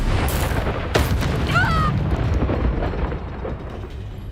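A Confringo blast spell in the Hogwarts Legacy video game fires off as a loud booming explosion with sharp bursts and a whooshing spell sweep, set among other dense, continuous combat noise.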